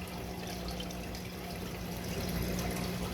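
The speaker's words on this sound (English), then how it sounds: "Look at the water being poured." Continuous splashing rush of water being poured into a 650-gallon aquarium, a steady quiet wash of liquid noise with no talk.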